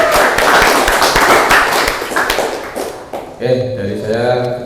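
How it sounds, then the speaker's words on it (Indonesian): Students in a vocational high school classroom clap their hands in quick, close bursts for about three seconds; then the clapping stops and a voice speaks. "Ya, tepuk tangan."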